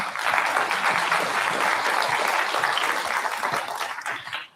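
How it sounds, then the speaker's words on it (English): An audience at a cultural panel event applauds with steady, full clapping that holds for several seconds before fading out at the end. "another round of applause for Phil Dunlap."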